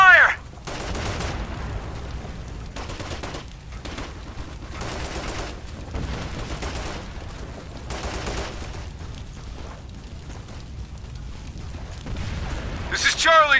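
Heavy gunfire in the video game Operation Flashpoint Red River, dense bursts of automatic fire and blasts repeating in clusters throughout, loud and sustained with a constant battle roar between volleys.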